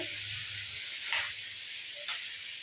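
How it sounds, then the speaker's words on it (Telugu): Brinjal pieces sizzling in oil in a covered pan, a steady close hiss with two soft clicks. "వంకాయ అనేది నూనెలో మంచిగా మగ్గాలండి"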